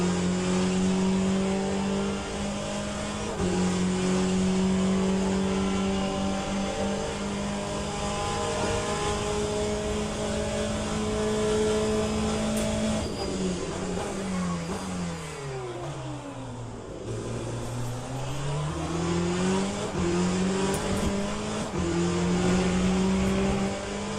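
A Porsche race car engine in the LMU racing video game drones loudly and continuously, its pitch climbing through the gears, then dropping sharply on braking before it revs back up, heard alone with no voices.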